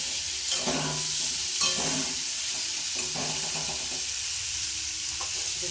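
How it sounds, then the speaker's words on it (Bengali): Green banana and potato sizzle steadily in a hot pan, with occasional stirring scrapes and clinks over the constant hiss of frying. "ঢাকা দিয়ে ভাজি, তাড়াতাড়ি ভাজা হয়ে যাবে।"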